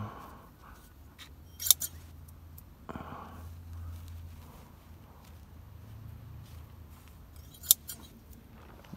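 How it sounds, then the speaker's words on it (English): Scissors snip off loose felting fiber heads in box felting, two crisp metallic snips spaced several seconds apart over faint rustling and handling noise, close and quiet with no speech. "just cut them off"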